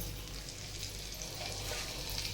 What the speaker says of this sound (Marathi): थोडंसं टाकून बघा तेल गरम झाले का झाले